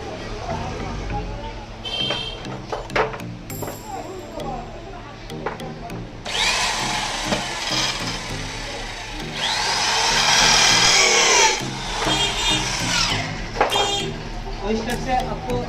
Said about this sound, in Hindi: इस स्टेप से आपको एक स्क्रू पहले फिक्स कर लेना है